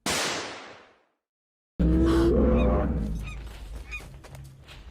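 Animated goose honking loudly in a short burst, then silence, followed by a louder flurry of honks and clamor that gradually tapers off.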